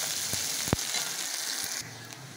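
Chopped onion hits hot oil seasoned with black cumin for a rui fish curry with eggplant and sizzles loudly and steadily up close. A brief clatter sounds near the start.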